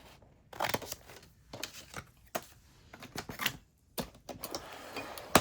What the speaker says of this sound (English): I'm going to cut this right here.